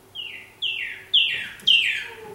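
Four clear descending whistled calls in quick succession from a male and female bird duetting, alternating as they answer each other, fairly close and growing louder.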